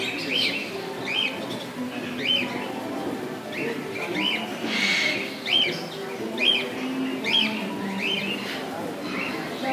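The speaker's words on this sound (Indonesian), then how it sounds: "Tengahnya aviari, pinggirnya kandang-kandang burung." Birds chirp and call in repeated short bursts from cages around a zoo aviary at Suraloka Zoo in Kaliurang, Yogyakarta, with soft cooing and people talking in the background.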